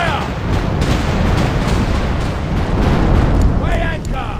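Ship cannon fire in The Pirate: Caribbean Hunt, a dense run of deep booming broadsides rolling continuously with loud low-end rumble, and a voice shouting near the end.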